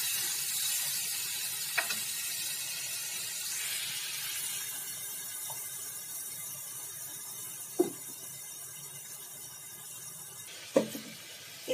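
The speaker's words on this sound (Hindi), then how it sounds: "अब हम इसमें डाल रहे हैं टमाटर, प्याज और बादाम का पेस्ट।" Tomato, onion and almond paste sizzles in a pan of cooked masala, a steady bright hiss that swells after the paste goes in, with a few faint clinks of a spoon against the pan and no talk.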